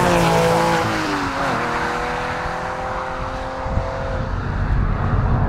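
A Porsche 911 996 Carrera 4S's 3.6-litre flat-six with mild exhaust modifications drones and revs, its pitch gliding up and down through gear changes, heard steadily with road noise from inside the cabin.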